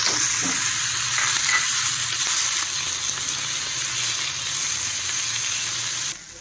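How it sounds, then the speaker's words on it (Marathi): Cut tomatoes sizzle steadily in a hot pan with garlic while cooking masala for chole, a continuous close frying hiss with light stirring throughout, briefly quieter at the very end. "दोन टमाटे आहेत कट करून घेतलेले, ते पण याच्यात आपण भाजून घ्यायचं आहे"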